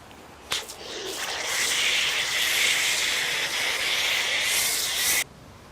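A loud, steady hiss of snow foam being sprayed from a nozzle onto a car in winter, starting with a short burst and running continuously for several seconds before cutting off.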